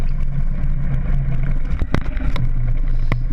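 A Kawasaki KLR motorcycle rides off-road with a steady, loud engine drone and low rumble, joined by a few bumps and rattles from the rough ground, with no talk.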